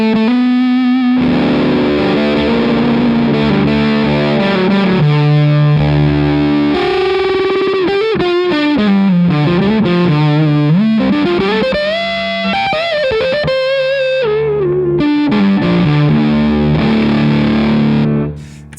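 An electric guitar played through a fuzz pedal set to full fat mode gives a thick, heavily distorted tone with sustained chords and bending single notes, loud and continuous with no talking.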